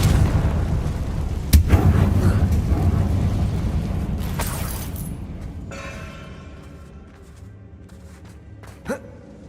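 A Confringo fire-blast spell explodes in the Hogwarts Legacy game, a loud broadband boom at about 1.5 seconds followed by a rumbling roar that slowly decays, with a sharp second burst late in the clip.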